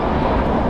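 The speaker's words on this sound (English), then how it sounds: "the planes are flying overhead" Airplanes passing overhead near Aloha Tower in Honolulu, Hawaii, by a docked cruise ship: a steady, loud broadband engine roar with no breaks through the short stretch.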